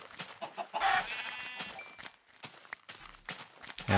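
Minecraft chickens cluck in a few quick bursts, one clear pitched call standing out, among soft in-game clicks and footsteps with brief quiet gaps.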